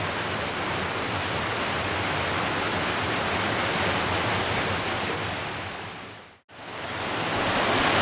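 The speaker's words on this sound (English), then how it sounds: "This is a stream here." Steady rushing water from a flowing stream, loud and close, continuous broadband wash that cuts out briefly near the end before resuming.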